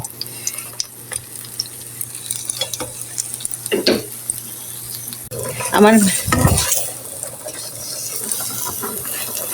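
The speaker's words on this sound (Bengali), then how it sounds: "এই তো আমার বেগুনগুলি আমি এপিট উপিট করে সুন্দর করে ভেজে নিয়েছি" Eggplant slices frying in a pan with a continuous hiss, broken by clinks and scrapes as the pieces are turned and lifted out, close by; a brief word is spoken near the start.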